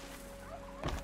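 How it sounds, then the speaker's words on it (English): Turkey gobble from the video game Horizon Zero Dawn, a short burst of rapid warbling near the end of the clip, standing out over a steady game ambience with no talk. "Something about that turkey noise that just sounds like prey to me."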